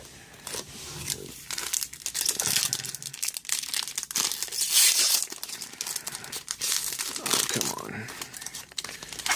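Crinkling, tearing foil of a trading card booster pack being wrestled open, a dense run of crisp crackles and rips lasting throughout, with a person talking over it.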